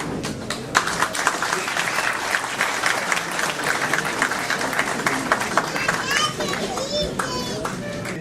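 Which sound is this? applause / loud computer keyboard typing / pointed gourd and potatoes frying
applause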